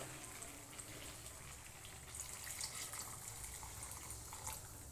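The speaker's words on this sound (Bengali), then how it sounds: "এবার গরম জলটা দিয়ে দিই" Hot water is poured into a cooking pan of sautéed ingredients, making a faint, steady rushing splash that continues for a few seconds without talking.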